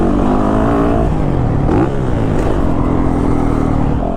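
A 2022 Yamaha YZ450FX motorcycle engine runs loud and close, with a steady rough drone and slight shifts in pitch as the throttle changes.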